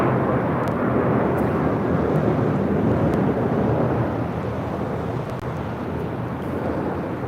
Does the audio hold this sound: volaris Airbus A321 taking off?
yes